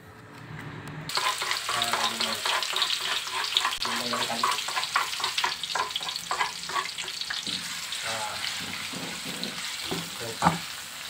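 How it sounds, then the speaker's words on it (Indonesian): Chicken liver, potatoes and carrots stir-fried in a pan for a simple home-cooked dish, with a steady loud sizzle and repeated scraping strokes of a spatula stirring throughout. "Nah, kita masak. Masak oseng namanya."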